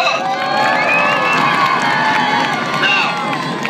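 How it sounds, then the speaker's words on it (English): Crowd cheering and shouting at a monster truck wheelie competition, a steady roar of voices and whoops from a large audience, loud and continuous throughout. "Give him a round of applause."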